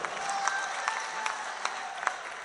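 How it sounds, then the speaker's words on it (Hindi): Audience at a poetry mushaira applauds in a steady, fairly faint patter of clapping with periodic sharper claps standing out, heard from some distance without talk. "एक बार ताली बजा दो भाई के नाम से।"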